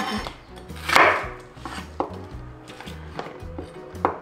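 A knife chops onions into large chunks on a cutting board, giving a series of close, distinct thuds at an uneven pace, one louder knock standing out, with no talking.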